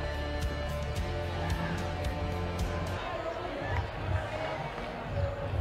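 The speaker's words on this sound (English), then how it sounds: "It's a good Tuesday night crowd." A Tuesday night crowd murmurs at a college baseball game between Sam Houston State and Texas A&M, heard as a distant ambient hum with faint claps under steady commentary.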